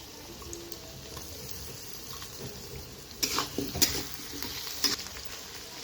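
Potatoes dropped into reddened frying onions in a pan bring a soft, watery sizzle that swells into louder crackling bursts and stirring in the second half.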